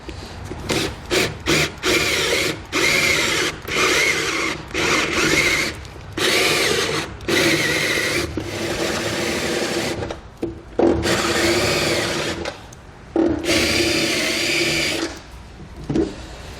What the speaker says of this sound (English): we're going to come back with our step drill bit, and we're going to enlarge them to their final size